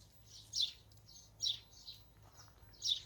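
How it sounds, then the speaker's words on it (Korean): Birds chirp in short, bright bursts, roughly every second, fairly near, in an orchard in spring, over a quiet low hum in the background. "새소리도 들리고"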